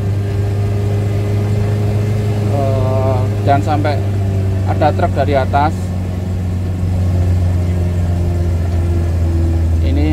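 A Suzuki Carry 1000 engine labours in second gear up a steep, extreme incline, droning in a loud, steady low hum throughout while someone talks over it.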